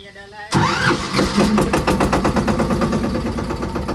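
A farm tractor engine is started with the ignition key: a brief cranking, then a loud diesel rumble that catches and settles into a steady close idle, with voices around it.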